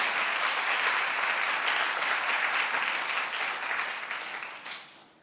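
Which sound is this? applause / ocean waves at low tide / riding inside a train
applause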